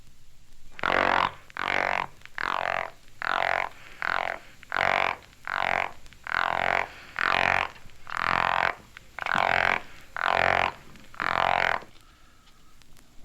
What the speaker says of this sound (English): This is a sound produced by a male Florida gopher frog when seized by another male.